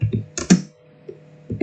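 Several computer keyboard keys are pressed in short uneven clusters, close and crisp, with brief pauses between the taps.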